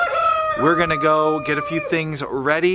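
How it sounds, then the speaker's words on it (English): A rooster crows repeatedly on a homestead in early spring, loud drawn-out calls close by while a person talks over them. "you can hear the rooster shouting out in the background."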